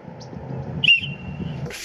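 A 3D printed emergency whistle of biodegradable PLA gives one short, shrill blast partway through, standing out above a low background hum.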